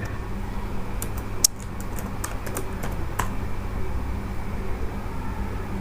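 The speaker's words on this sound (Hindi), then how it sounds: "यहाँ पे वन सिग्नल लिखकर सर्च करें।" Fingers tap out a search term on a computer keyboard, sending a quick burst of crisp clicks that bunch together and then stop, over a low steady background hum.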